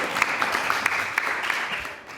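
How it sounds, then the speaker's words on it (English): Applause from an audience at a Cité de l'Espace Apollo Day celebration in France: a steady wash of clapping with scattered sharper claps, moderately loud and continuous for a couple of seconds, fading slightly at the end. "On peut l'applaudir pour ça."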